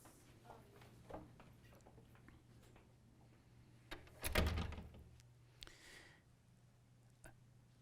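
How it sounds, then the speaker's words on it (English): A door is closed during an indoor talk, with scattered faint knocks and handling before one louder thud and rattle near the middle, then quieter clicks over a low room hum. "Can I close the door?"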